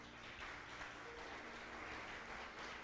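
A church congregation applauds, a steady sustained patter of many hands clapping at moderate distance, even and continuous throughout with no voices.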